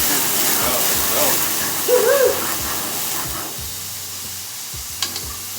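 Tomatoes frying in a pan give off a steady, soft sizzle that runs underneath a brief voice, with a couple of sharp utensil clicks near the end.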